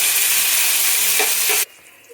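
Chopped tomatoes fry in a pan for a spicy prawn biryani, giving a steady, close, hissing sizzle that cuts off abruptly near the end, leaving quiet.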